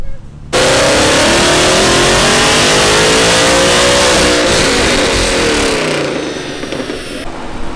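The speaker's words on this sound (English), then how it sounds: "they're doing a pull with a Gen 1 Mustang right now." A Gen 1 Mustang roars through a pull on a chassis dyno at a dyno day event. The loud, close engine note climbs steadily in pitch for about four seconds, then eases off and fades as the run ends.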